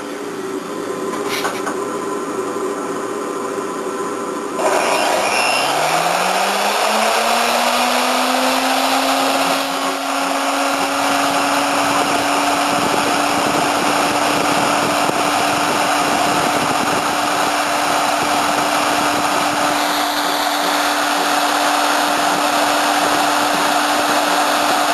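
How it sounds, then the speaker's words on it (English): A CNC machine spindle starts up with a rising whine that settles into a steady high-pitched hum, running continuously and loudly over a constant background of machine noise. "Here's the spindle start up."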